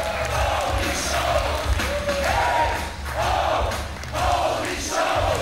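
A wrestling crowd roars and cheers for Damon Sane's entrance at an Unlimited Wrestling show, a loud, dense wall of voices with swelling whoops and shouts throughout.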